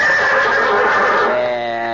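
Horse whinny sound effect from a 1942 radio comedy, a loud, bright neigh with a wavering, descending pitch lasting about two seconds, alone with no talk.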